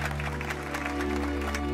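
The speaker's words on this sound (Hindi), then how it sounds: "तालियां बजाओ उसके लिए।" Brief burst of children's clapping in a government school classroom, steady and close, over a constant low hum.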